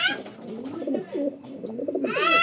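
Young home-bred racing pigeons coo in soft, throaty, rolling calls, close by and repeated steadily with no talking.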